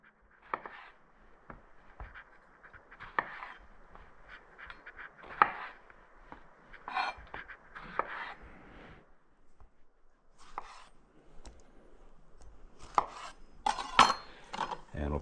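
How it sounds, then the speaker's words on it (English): A knife slices tomatoes in half for roasting tomato soup, making scattered light taps and thuds against a cutting board, irregular and fairly quiet, in an otherwise quiet kitchen. "So the first thing we're going to do is get all of our tomatoes cut in half."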